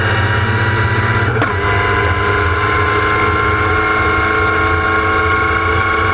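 Onboard a historic Formula Ford racing car flat out at Brands Hatch, the engine drones loud and constant at high revs, with a brief shift-like blip early on and wind rush underneath.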